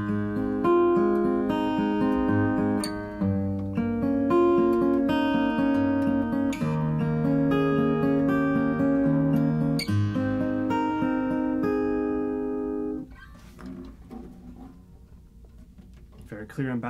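A classical piece by Carcassi played fingerstyle on an OM-body acoustic guitar, with clear melodic notes over bass lines at a moderate, even pace, close and solo, fading into a brief pause before a few quiet notes.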